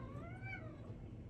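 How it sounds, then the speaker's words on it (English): A house cat meows once, a clear rising-then-falling call close by, over a low background hum in a quiet room where acrylic painting is underway. "Here comes my cat."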